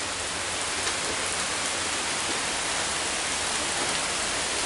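Evening rain falls in a steady, dense hiss, loud and even throughout with no voices.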